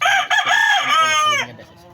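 A single rooster crows loudly and close, one full drawn-out call that trails off, with no other sounds around it.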